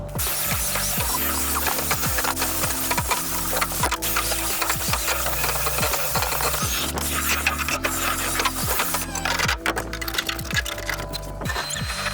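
Foam being dug out of the rod locker holes in a jon boat gives a loud, continuous scraping and rasping that runs steadily throughout, with repeated rubbing strokes and no talk.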